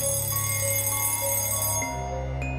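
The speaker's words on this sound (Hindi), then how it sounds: "उस सन्नाटे को चीरते हुए अलार्म बज उठता है।" An alarm rings in a cartoon horror story, sounding as a steady electronic tone that holds for nearly two seconds and then shifts to a lower pitch, with no voices over it.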